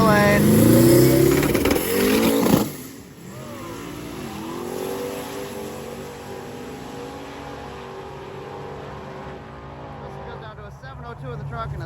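At a street drag race, a Ford truck and a box body car rev hard and launch, a loud engine roar that drops away into a distant fading drone while a commentator talks over it.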